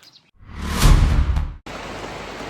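Rain sweeps in as a rising, hissing wash that peaks and cuts off sharply, then gives way to a steady, even patter at a horse competition in Brittany.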